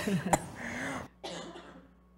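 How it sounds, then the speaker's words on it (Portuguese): A single sharp cough cuts through quiet background noise, followed by a short throat-clearing sound. "Desculpa, tô com tosse"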